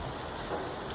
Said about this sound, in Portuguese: Ó, tá chovendo.